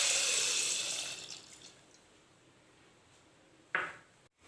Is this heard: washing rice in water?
yes